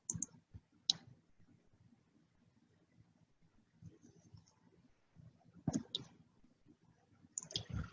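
Computer mouse clicks, a few sharp isolated clicks spaced apart, close and quiet over a near-silent background.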